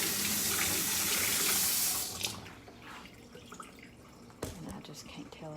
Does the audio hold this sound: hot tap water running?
yes